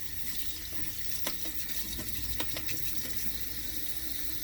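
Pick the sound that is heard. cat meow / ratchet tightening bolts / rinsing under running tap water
rinsing under running tap water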